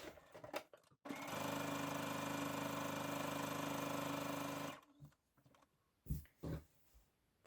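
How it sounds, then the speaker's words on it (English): A sewing machine runs in one steady burst of nearly four seconds, stay stitching along the top edge of trousers, with quieter handling clicks and rustles before and after the run. "I'm going to put a row of stay stitching, that 2mm that I talked about before, along the top of the trousers"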